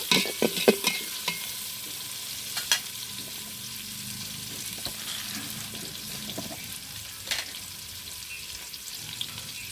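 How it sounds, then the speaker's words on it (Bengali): Cardamom and cinnamon frying lightly in oil in a home kitchen, a steady soft sizzle with sharp clinks and scrapes of a stirring spoon against the pan, loudest near the start. "একটু হালকা ভেজে নিব।"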